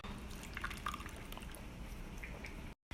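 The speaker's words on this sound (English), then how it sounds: "you're going to pour in a stick of melted butter" Melted butter, a full stick, poured into a bowl of chicken, giving a soft continuous liquid trickle and faint drips close by, with no talking over it.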